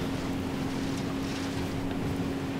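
A motorcycle engine drones steadily while riding in Ghost Recon Wildlands, a constant hum with a fixed tonal whine and wind-like rush, no one talking.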